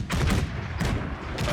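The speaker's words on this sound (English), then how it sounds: "They're unleashing cannon shot onto the heavy cavalry squadron" Cannon fire from a Napoleonic battle in the Napoleon: Total War video game, with guns shelling a heavy cavalry squadron. Three heavy, rumbling booms land in quick succession, loud and close over a continuous battlefield din.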